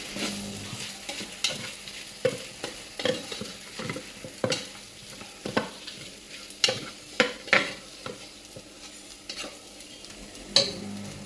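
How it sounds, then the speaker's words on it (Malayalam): Fried chicken is stirred into masala in a pot for one-pot chicken biryani, with a rhythmic series of scraping ladle strokes over a low sizzle, close and clear with no voices. "മസാല പിടിക്കാൻ വേണ്ടി 2 മിനിറ്റ് ഒന്ന് ഇളക്കി കൊടുക്കാം നല്ലപോലെ"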